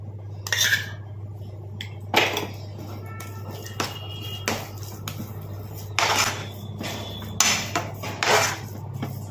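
A spoon scrapes and taps against a pan while Bombay rava and sugar are stirred together as the sugar melts, giving irregular close clinks and scraping strokes over a steady low hum, without talk.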